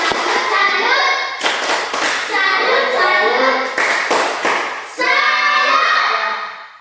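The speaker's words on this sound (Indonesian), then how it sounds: "tepuk tangan buat kelompok 2 yang sudah mempresentasikan" A class of students claps in several bursts with short pauses between, the rhythmic applause close and loud, with children's voices mixed in.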